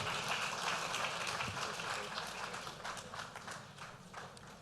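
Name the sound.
audience applause for a speaker coming to the stage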